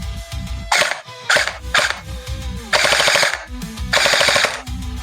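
A repaired CosmoX Sirius gel blaster fires in rapid bursts of close, loud clacking shots, two main volleys with short gaps between, with mechanical whirring in between.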